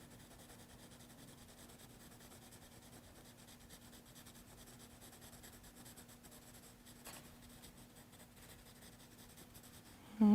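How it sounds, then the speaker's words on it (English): A pencil shades on paper with the side of the lead, making a steady, soft, continuous scratchy rubbing that stays even throughout, with a faint hum beneath and a small bump near the end. "we can shade one side with the side of our pencil"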